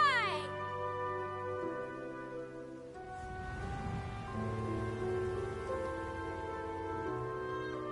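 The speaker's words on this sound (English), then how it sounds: "When is this rain going to stop?" Rain patters steadily in Genshin Impact after a brief musical chime at the start, with soft game music tones layered over the downpour.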